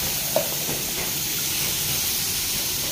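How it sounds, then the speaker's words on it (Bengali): Chicken being sautéed in a pan gives a soft, continuous sizzle and hiss at moderate distance, with one small clink near the start and no talking. "এই দেখো চিকেনটা কষা হচ্ছে,"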